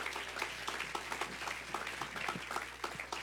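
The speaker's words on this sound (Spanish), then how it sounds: "Dale un aplauso a Cristo" A church congregation applauds Christ during a service, scattered, crisp hand claps over a low steady electrical hum, continuing evenly throughout.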